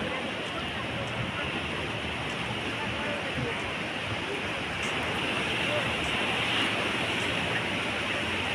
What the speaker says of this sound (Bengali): দেখো জলের ঢেউগুলো খালি দেখো।